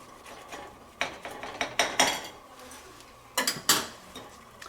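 Knife slicing a croissant in half, a series of soft crackling crunches and scraping strokes against the board, irregular and close, with a few sharper bursts toward the end.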